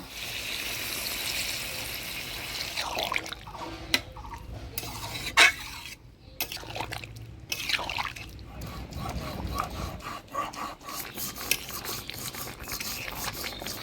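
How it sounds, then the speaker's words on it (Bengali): Broth poured over potatoes and pointed gourd in a pan, giving faint watery pouring and bubbling with scattered clinks and scrapes of utensils against the pan over several seconds. "এবার ঝোল দিয়ে দিব"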